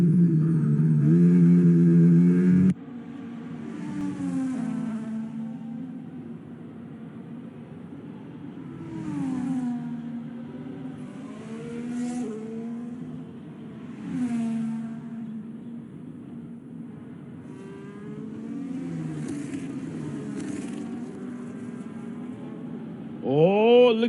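A race car engine revs through a qualifying lap at Abu Dhabi in a racing game, rising and falling through gear changes, loud at the start, then steady under a talking voice.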